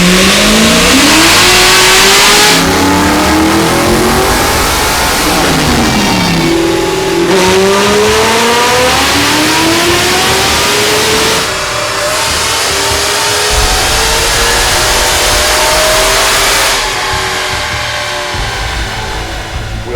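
A tuned performance car's engine revs hard at wide open throttle in a racing shop, loud and continuous for the whole span, with rising and falling pitch sweeps as it climbs through the revs and backs off several times.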